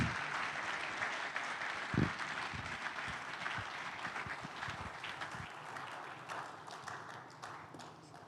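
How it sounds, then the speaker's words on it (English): Audience applause welcoming Olusegun Adeniyi at The Platform Nigeria event, a dense sustained clapping wash from a large hall crowd, slowly thinning toward the end. "We can be more generous with our applause."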